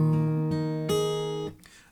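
Guitar playing O Holy Night, a few plucked notes with a moving bass line stepping between sustained pitches, clear and close, heard alone.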